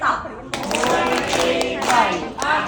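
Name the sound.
group clapping hands together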